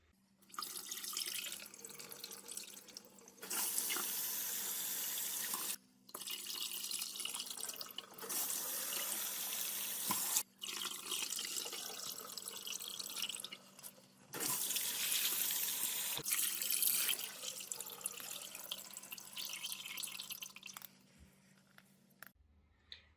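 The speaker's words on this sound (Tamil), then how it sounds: "2 மணித்தியாலமா ஊற வச்ச கடலைப்பருப்பை நாங்கள் நல்ல வடிவா கழுவி எடுப்போம்." Soaked chana dal (split chickpeas) is washed under water that pours and splashes in several long, fairly quiet runs with short breaks between them.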